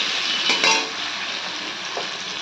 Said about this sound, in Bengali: তারপরে বসিয়ে দিয়েছি এখানে সবজিটা প্রায় ভাজা হয়ে গেছে